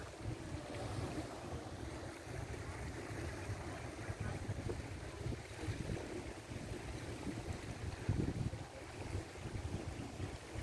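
A boat out on open water at sunset, with steady wind and lapping waves running continuously throughout, a low rumbling wash that stays fairly even in level with no voices.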